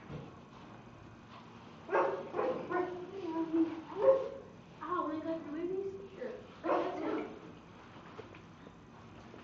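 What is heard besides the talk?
dog barking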